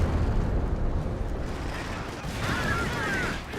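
Artillery barrage in the game Company of Heroes 2, a rumbling roll of heavy explosions and bursts filling the mix continuously, with a commentator's voice faint beneath the booming impacts.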